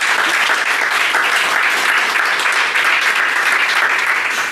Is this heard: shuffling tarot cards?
no